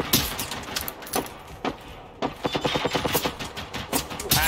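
Rapid automatic gunfire bursts and single shots from the video game Generation Zero, loud and close, with repeated volleys across the span and no talking over them.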